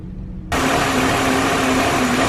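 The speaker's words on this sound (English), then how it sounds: "You can hear the hunting idle." A car engine running rough at idle after restarting from a stall, a loud steady mechanical drone with a faint whine, close by and without talk.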